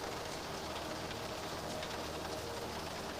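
Steady rain falls outdoors by a boat dock, a continuous even hiss with soft patter; birds coo faintly in the background.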